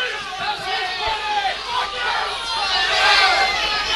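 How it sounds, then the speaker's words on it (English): A rowdy crowd roars and chatters throughout an amateur boxing bout, Luke Girdlestone against Howard Daley, as a dense, steady wall of cheering and babble that swells slightly toward the end. "now the crowd are really getting rowdy into this"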